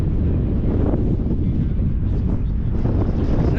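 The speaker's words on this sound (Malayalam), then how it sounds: "നല്ല തണുത്ത കാറ്റ് വരുന്നുണ്ട്" Cold wind gusting across a mountain top near Baku, Azerbaijan, a steady broadband rumble of wind buffeting the microphone throughout, with no talk.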